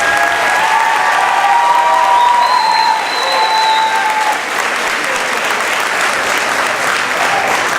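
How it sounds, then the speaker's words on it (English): A graduation ceremony audience gives the staff a round of applause: loud, dense, sustained clapping from a large crowd, with whistles rising above it, fading slightly toward the end. "Let's give them a round of applause."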